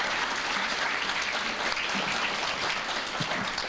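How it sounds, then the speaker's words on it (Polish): Warm applause from a concert audience greeting a group of male performers, steady dense clapping filling the hall without pause for several seconds, with no voices standing out. "Gorące brawa dla naszych panów."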